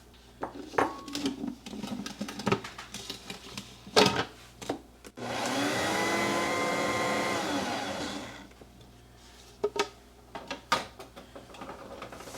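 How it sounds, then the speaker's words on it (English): An electric mixer stirs oats into Christmas cookie dough in a country kitchen, a steady whirring run of about three seconds set between scattered bowl clatter and knocks. "Then we're to mix in our oats."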